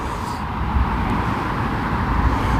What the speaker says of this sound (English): I'm sorry about the road noise.